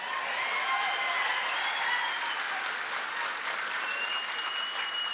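Steady, dense applause from a large audience at a political rally in Barshi, continuous and even throughout with no voices rising above it.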